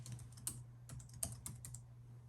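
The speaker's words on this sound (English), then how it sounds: "She's typing." Soft typing on a computer keyboard in an office setting, a light irregular patter of keystrokes over a steady low hum, fairly faint and with no one talking.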